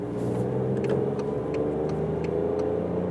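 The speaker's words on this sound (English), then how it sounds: "let's start at 30 kilometers an hour in second gear." A Toyota Aygo X with a manual gearbox accelerates in second gear from about 30 km/h, its small engine droning steadily and rising in pitch as it pulls, heard from inside the car without talk.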